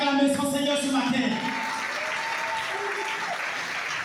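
A church congregation claps and acclaims the Lord during a Sunday morning service, steady applause rising out of a preacher's voice and continuing on its own.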